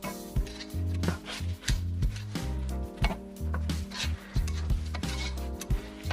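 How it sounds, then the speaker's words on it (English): Rice for chicken fried rice being stirred and turned in a pot, close scraping and knocking strokes repeating in an uneven rhythm, with no talking. "Now I'm going to turn the rice."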